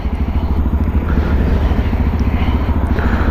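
A Peda Tekken 250 motorcycle ridden at night near Novi Sad gives a loud, close, continuous engine drone with steady throbbing pulses and rushing wind noise throughout.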